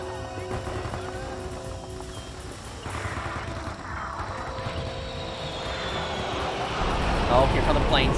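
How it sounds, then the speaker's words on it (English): Airplanes drone overhead in the Vietnam War video game Men of Valor, a rising engine roar swelling louder toward the end beneath battlefield noise and voices speaking. "Oh, here come the planes."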